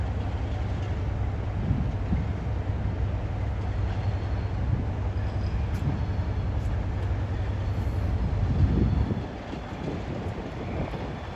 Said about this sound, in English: Incoming now will be the 1509 Phantom West Coast service from London Euston to Edinburgh